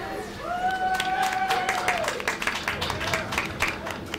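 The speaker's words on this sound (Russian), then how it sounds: "они каждый раз будут хлопать, я просто не понимаю" A crowd applauding and cheering in the video game Middle-earth: Shadow of War, steady dense clapping throughout, with a rising horn-like tone early on and someone talking over it.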